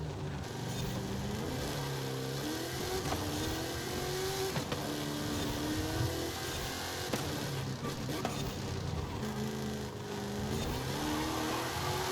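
Race car engine in Forza Horizon 5 pulls hard and continuously, revving up through rising tones with brief shifts, steady and loud throughout with no talking.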